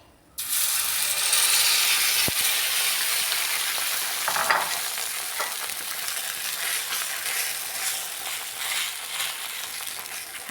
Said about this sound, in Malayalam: ഇതിലേക്ക് നമുക്ക് മുട്ട ഒഴിച്ചു കൊടുക്കാം